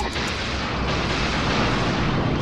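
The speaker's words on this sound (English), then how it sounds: "That was like a Star Fox explosion sound" A loud, broad rumbling blast from the space combat game Fur Squadron, a sustained dense roar of explosion noise filling the whole stretch with no pause.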